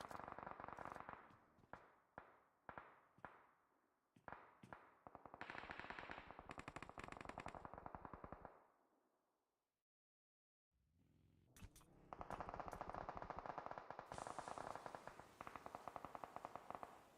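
Rapid bursts of gunfire from an online video game squad match, with rattling automatic volleys and single cracks, a brief silent gap, then heavy sustained shooting returning loud and close.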